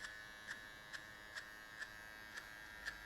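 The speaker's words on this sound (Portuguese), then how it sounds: "Agora eu venho com essa máquina de acabamento para cima desse jeito aqui" An electric finishing trimmer hums steadily while cutting hair for a mid fade, its constant buzz broken by about seven short regular pulses as the blades touch the hair, close up with no talking.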